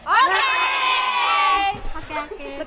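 Village schoolchildren in Timor-Leste burst into loud, high-pitched group cheering and shouting at close range, holding it for about a second and a half before it breaks into scattered chatter and laughter.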